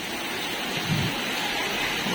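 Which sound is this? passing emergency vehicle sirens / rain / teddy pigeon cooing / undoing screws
rain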